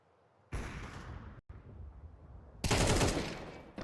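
Gunfire in a Counter-Strike 2 match: bursts of rapid automatic fire come in close and loud, broken by a brief gap, then a heavier, louder volley at the end.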